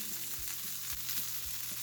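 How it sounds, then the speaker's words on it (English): A burger patty sears in a hot pan for a cheeseburger, giving a steady close sizzle with soft crackles and a few low thumps throughout, no talking. "So our burger has been searing for about 3 minutes"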